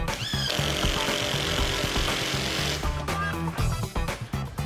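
Bosch GDR 18V-220C cordless impact driver driving M5 50 mm screws, a loud close rattling hammer burst with the motor whine cutting in and out in short repeated pulses near the end, no talk.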